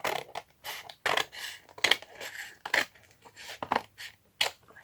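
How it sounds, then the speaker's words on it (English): Scissors cutting a piece of paper for a handmade 3D tunnel book journal, a run of crisp close snips at an uneven rhythm with brief pauses between cuts. "Just going to cut this piece."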